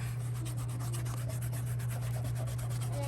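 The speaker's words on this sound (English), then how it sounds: "I'm going to hold my shamrock in place over here, and I'm going to rub." A crayon or pencil rubbed over a paper shamrock laid under paper on a desk gives a continuous fast scratchy rubbing, close and steady, over a constant low electrical hum.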